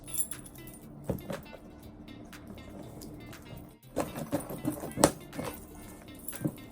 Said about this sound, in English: So I don't have scissors, so I'm gonna use my keys.